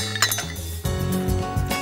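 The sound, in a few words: almonds dropped into mixer jar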